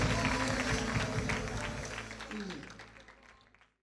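Church congregation applauding after a call to praise, a broad wash of clapping with crowd noise and some voices mixed in, fading out toward the end.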